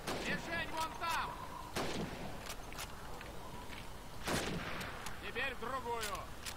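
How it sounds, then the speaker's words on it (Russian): Rifle shots crack out one after another at irregular intervals, loud and sharp, with a shouted voice between them, from Call of Duty 2 game audio. "Стреляем по каскам."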